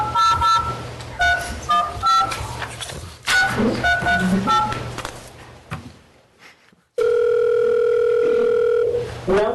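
A phone line for calling into a borough assembly meeting gives tone beeps and short tonal bursts, a quiet gap, then a loud steady sustained dial tone that holds to the end.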